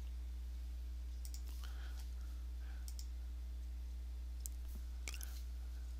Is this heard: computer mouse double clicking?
yes